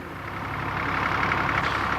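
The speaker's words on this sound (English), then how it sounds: "For Sister Ancilla, the tractor and plough is as much a part of day-to-day routine as the prayer book" An old tractor engine runs steadily on a convent's self-sufficient farm, a continuous broad rumbling drone that grows slightly louder over two seconds with no voices.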